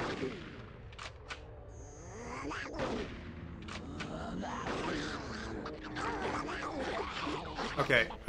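Rapid game gunfire from Conker's Bad Fur Day, a string of sharp shots and bursts mixed with cartoonish game effects and voices, fairly loud throughout.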